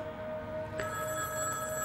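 A telephone bell rings in a steady, sustained trill, clear and moderately loud over a faint background hum, with no voices.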